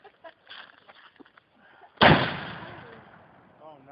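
New Year's Eve firework launched from a tube, a single loud, close boom that rings out and decays over a second or two, preceded by quiet rustling and footsteps.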